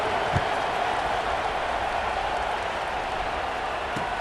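A stadium crowd in the College Football 26 video game produces a constant, even wash of roar and scattered applause, with no distinct peaks.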